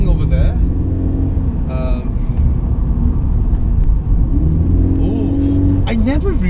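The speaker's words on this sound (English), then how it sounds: "Oh, I never remembered this engine is so sweet." A 2013 Toyota 86 engine revs and pulls while driving, a steady close rumble inside the cabin with rising and falling pitch sweeps, and people talk over it.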